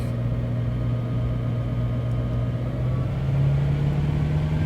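Truck diesel engine with tow haul on, held steady at 2,000 RPM in fourth gear with the torque converter clutch locked, loaded hard against the brake on a dyno: a continuous low droning hum that rises slightly partway through.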